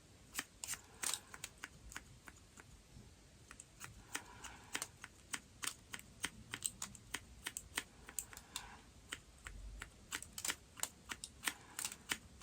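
Scissors snip through hair during a DIY shag wolf cut, a rapid series of crisp, close clicks and cuts at an uneven rhythm with quiet rustling between.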